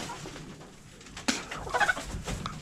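Chickens in a backyard coop during a Texas cold snap give soft, close clucks and low murmuring calls that build toward the end, over a faint background.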